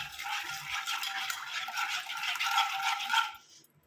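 A spoon clinks and swirls briskly in a cup of water with coffee powder for a few seconds, a light rattling stir close by, then stops.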